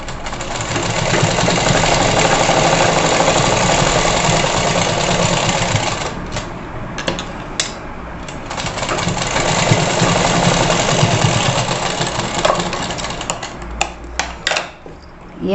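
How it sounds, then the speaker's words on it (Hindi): Sewing machine stitching lace onto a net blouse, a steady mechanical whir and rapid needle clatter running continuously up close, pausing briefly and then resuming. "एक सिलाई और लगा देंगे इसमें।"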